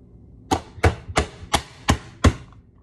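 A handheld veggie chopper presses down through cucumber in six evenly spaced, sharp chunking strokes, close and crisp, each with a quick thud, with no talking.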